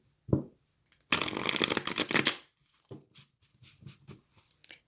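A tarot deck is riffled in one dense, crisp burst, followed by softer taps and shuffling of cards close by.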